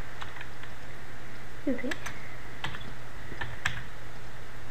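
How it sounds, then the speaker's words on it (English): Typing on a computer keyboard, a sparse scatter of light clicks and taps over steady background hum, close but soft, with a brief spoken word midway. "so I type in"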